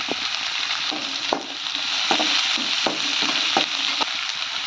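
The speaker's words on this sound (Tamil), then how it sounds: "வெங்காயத்தை போட்டுக்கிட்டேன் கொஞ்சம் கருவேப்பிலை போட்டுக்கிறேன்" Onions and curry leaves sauté in a pan for a potato masala, a steady close sizzle broken by repeated sharp scrapes and clacks of stirring, with no voices.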